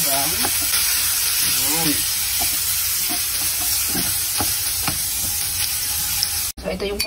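Garlic sizzles and crackles in hot oil in a wok, stirred with a spatula that scrapes now and then, close and steady, while someone says a word briefly.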